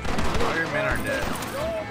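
Gunfire in a Red Dead Redemption shootout, a dense fusillade of rifle and pistol shots crackling steadily throughout with no gaps, loud and close under ambient game sound.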